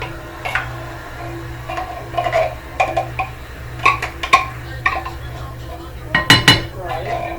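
Tomato bisque soup spooned from a can into a saucepan, with scattered metallic clinks and scrapes of the spoon against metal, a cluster of louder knocks near the end, and a voice speaking faintly in the background.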